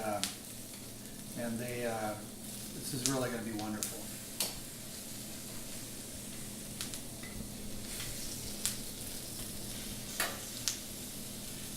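Food crackles and sizzles steadily on a hot Himalayan salt cooking brick, with scattered sharp pops throughout while a person talks briefly near the start.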